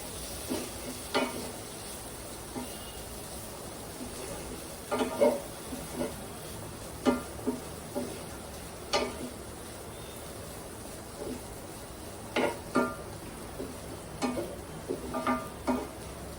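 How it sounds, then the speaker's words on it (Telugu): Garlic and cumin tempering sizzles softly in hot oil, with a steady low hiss broken by intermittent scrapes and clatters of stirring in the pan. "ఉత్తి వెల్లుల్లిపాయ జీలకర్ర తాలింపులు వేసి"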